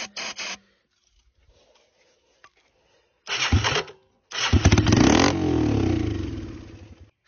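A three-wheeler's engine sputters and pops in short bursts, goes quiet, then fires up with a loud, close rev that rattles on before fading out.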